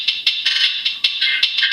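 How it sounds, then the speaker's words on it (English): A crisp, bright hi-hat loop sampled from Splice and played without EQ, a loud, sharp rhythm of closely spaced ticks and sizzles, heard alone. "This is also a KRS hi-hat loop that I found, that I had, I think it was from Splice actually."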